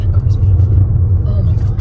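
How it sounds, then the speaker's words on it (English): Classic Chevrolet Impala engine rumbling steadily close by, a low continuous growl under loud overlapping talk throughout. "Classic car, Impala."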